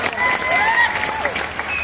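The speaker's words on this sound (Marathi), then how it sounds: "करा की टाळ्या" Applause from a crowd at a kusti wrestling match in Chandur rattles steadily and fairly loud, mixed with voices and a high whistle-like tone over the clapping.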